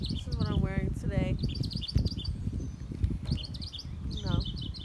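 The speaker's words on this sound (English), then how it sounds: "It's really pretty out here, and the birds are chirping and stuff." Birds chirp outdoors in bright, quick tweets and short trills that recur through the moment, with low rustling and handling noise underneath.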